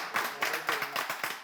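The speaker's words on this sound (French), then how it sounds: "Pourquoi vous applaudissez?" A French game show studio audience claps in a steady rhythmic pattern of about six distinct beats, fairly close and loud, with no talk over it.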